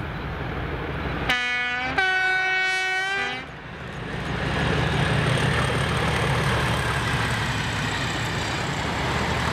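Class 37 diesel locomotives 37175 and 37099 haul a train in Scotland: a loud two-tone horn blast sounds first, then the deep engine roar swells and holds as the train passes close by.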